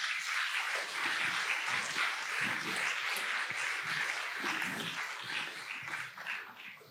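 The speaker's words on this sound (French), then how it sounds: "on vous applaudit tous les trois" An audience applauds three speakers at a science talk continuously, a dense wash of many hands clapping that holds steady for several seconds before thinning slightly at the end.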